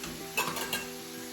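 Old El Paso mild seasoning mix being stirred into a sizzling pan for quesadillas: a steady low frying hiss with two brief scraping stirs near the start, close and fairly quiet.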